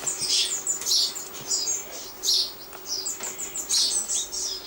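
Young ducklings at a wildlife rescue centre peep in rapid, high, repeated chirps, a steady chorus of close, thin calls with a faint low hum beneath.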